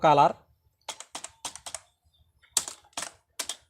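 Computer keyboard typed in short quick bursts of clicks separated by brief pauses, close and crisp against a quiet background, following a brief spoken word at the start.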